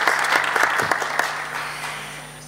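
An audience at a corporate and entrepreneurship forum claps in a short burst of applause that starts full and gradually fades out.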